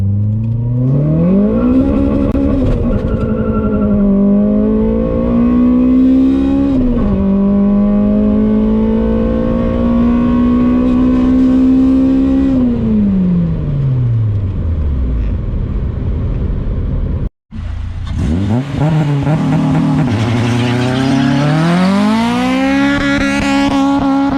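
A Honda Civic EM2 with a K20 engine pulls hard through the gears, its engine note climbing in long rising sweeps with shifts between them. The sound is loud and close, then briefly cuts out before revving up again.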